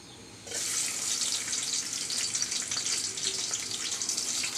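Chopped garlic hitting hot oil in a pan while cooking lentils with helencha greens, a sudden loud hiss that settles into a steady, bright sizzle.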